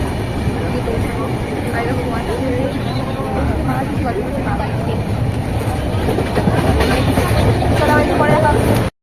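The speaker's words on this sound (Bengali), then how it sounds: "ওই যে আমাদের ট্রেন এখন পুরী স্টেশনে ঢুকছে" A train pulls into Puri railway station with a continuous heavy rumble and faint rhythmic wheel clatter, loud and close, with people talking over it throughout.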